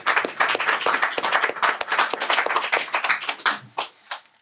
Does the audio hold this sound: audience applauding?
yes